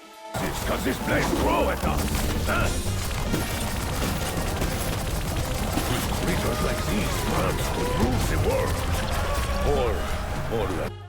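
A wonder weapon in Call of Duty Zombies fires rapid, dense volleys of shots at an armored gladiator, loud and continuous with crashing impacts throughout.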